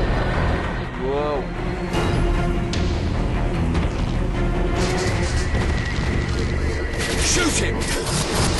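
Gunfire and explosions in the video game Crysis 3, a loud, dense barrage of shots and booms that runs without a break, mixed with game music and effects.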